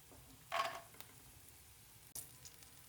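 Soft sizzle of coconut pieces and cashews frying in hot ghee, with a brief louder crackle burst early and another short one later, fairly quiet overall.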